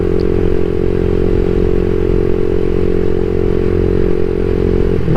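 CSC SG250 motorcycle with a MotoCult Stage 4 engine kit under way, a loud continuous throbbing engine drone holding a steady pitch with constant rumble throughout.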